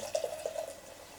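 Cider poured into an Orchard Box tankard, a soft close trickle and a few gurgling splashes that fade into a thin, quiet stream.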